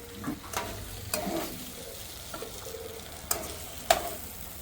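Cauliflower pieces fry in a pan with a quiet, steady sizzle, broken by a few sharp scrapes and clicks of stirring, close by and without talk.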